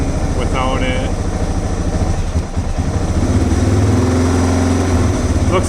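A Suzuki DR650 motorcycle on a performance build idles steadily up close, its low pulsing thrum rising partway through as the idle picks up, with someone talking over it.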